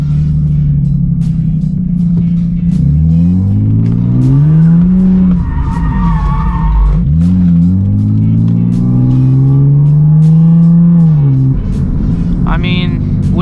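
Turbocharged 2JZ-swapped Lexus IS300 revving hard as it drifts on a wet street in the rain, the engine note rising and falling in long sweeps with loose tire noise, loud and close throughout.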